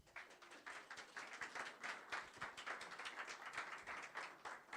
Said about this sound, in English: All right, let's give an applause.